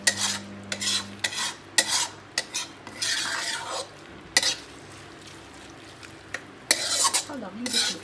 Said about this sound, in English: Give it a good mix, and I'm going to just cover this up again so the tomatoes cook quickly.